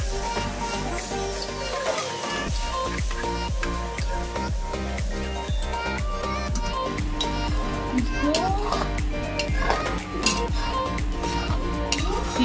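Fried onion paste and masala are stirred in a cooking pan, giving steady scraping and metallic clinks of a utensil against the pan, with someone talking over it and children's voices in the background.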